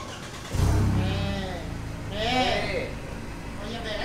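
A car engine turns over and starts with a loud low rumble that then settles into a steady idle, while people talk over it in the background.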